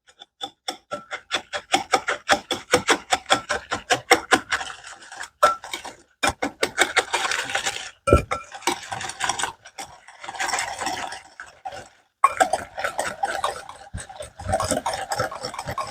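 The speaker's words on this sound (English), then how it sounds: "Whisk this together." A whisk beats brown sugar mixture for pumpkin pie filling in a bowl, producing a fast, steady run of close, crisp rhythmic clicks and scrapes with brief pauses between bursts.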